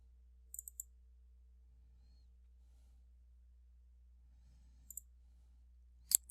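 A few sharp computer mouse clicks, quiet and close, come as a quick cluster near the start, another pair near the end and a final louder click, with near silence between them.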